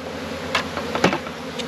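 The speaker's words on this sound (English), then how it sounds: "some of the bees are still" Bees hum around a beehive pollen collector in New Zealand, a close, continuous buzz punctuated by a few sharp knocks or taps.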